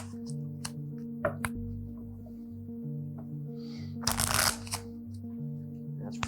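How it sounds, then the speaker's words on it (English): A spectator shuffles a deck of playing cards during a magic show, a brief loud riffle in the middle over a steady background hum, with a few scattered small clicks before it. "Rick, give the cards a shuffle. Mix them up if you would."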